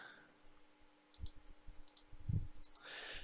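Computer mouse clicking while selecting faces in Fusion 360, with several light, sharp clicks spaced apart over a quiet room and faint low knocks between them.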